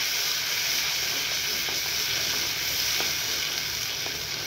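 Onion and ginger paste fries in a pan, a steady dense sizzle and hiss with faint crackles throughout, close and unbroken, no voices.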